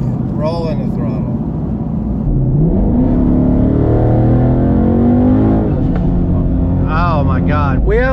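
A twin-turbo 2019 Mustang GT running E85 accelerates loudly and up close, its engine note climbing steadily in pitch as the throttle is rolled on, with voices talking over it near the start and end.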